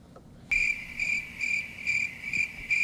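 A cricket starts abruptly and chirps in a regular, repeating pulse of shrill, steady trills, fairly loud and clear over a quiet background with no voices.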